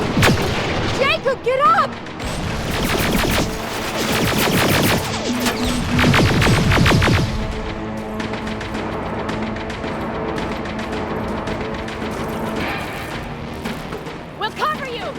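Gunfire and heavy booms in the shooter Terminator: Resistance, loud and dense for the first seven seconds, then fading into a lower rumble while voices shout over the battle.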